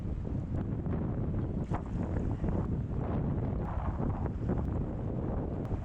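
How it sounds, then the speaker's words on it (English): Wind blows steadily during a raft and kayak trip on the Middle Fork Salmon River in Idaho, a constant low roaring rush with gusty microphone buffeting throughout, close and unbroken. "This wind is sort of like a mist fall."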